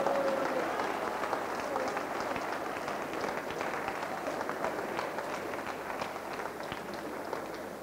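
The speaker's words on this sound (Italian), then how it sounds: "Era qui che voleva l'applauso" A theatre audience at a Benito Urgu comedy show bursts into applause: dense, sustained clapping from a large crowd, steady throughout and gradually easing off toward the end.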